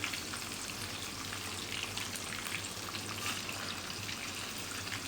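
Pieces of fish coated in gram flour frying in hot oil, giving a steady, busy sizzle and crackle heard close up, with no voices.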